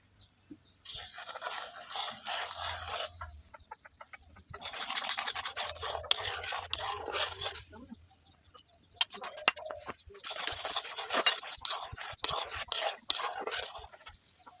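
Powdered milk stirred a little at a time into boiled milk for papaya sandesh, giving repeated bursts of close, scraping rasps from a utensil against the pot, separated by short quiet gaps.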